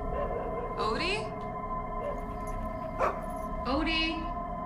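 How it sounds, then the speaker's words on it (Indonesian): A dog gives a few short barks and yips in a house with faint background noise, the calls coming in brief bursts about a second apart at moderate volume. "membuat Odie menggonggonginya"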